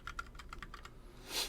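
Fast typing on a computer keyboard during a Korean programming lesson, with a run of light, evenly paced key taps and a slightly louder burst of clatter near the end, heard alone with no talk.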